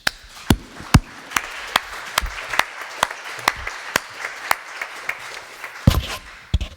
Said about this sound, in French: On applaudit Pucci.